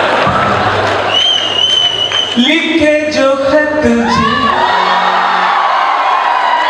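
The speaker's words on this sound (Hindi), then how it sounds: "देखो मेरी झूठ बात में भी ताली बज रही है" A comedy show audience applauds and whoops together, with a burst of claps and cheers that builds and then fades while someone talks and sings over it.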